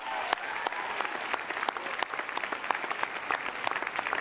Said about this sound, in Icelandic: þannig að það verðskulda klapp